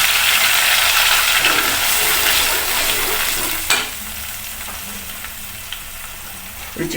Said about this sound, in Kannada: ಈಗ ರುಬ್ಬಿರೋಂಥ ಪೇಸ್ಟನ್ನು ಹಾಕ್ತಾಯಿದ್ವಿ.